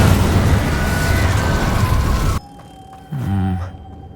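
Incendio fire spell cast in the video game Hogwarts Legacy, a dense roaring whoosh of flame that cuts off abruptly, followed by quieter rumbling and a short tonal swell.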